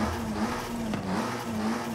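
A tuned Alpine A110 engine roars steadily in Forza Horizon 5, a loud, sustained drone with a slight pitch dip midway, alone without talk.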